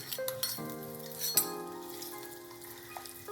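Soaked edible gum roasts in ghee in a pan, a soft steady sizzle and crackle with faint stirring clinks and scrapes, quiet and close.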